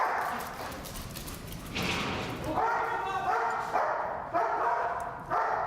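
Police K9 dog with the Peterborough unit barking in sharp repeated bursts during an arrest training exercise, loud and close, mixed with shouting handlers and background noise.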